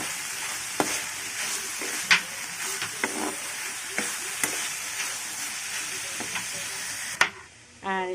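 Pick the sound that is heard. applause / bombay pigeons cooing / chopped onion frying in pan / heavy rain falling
chopped onion frying in pan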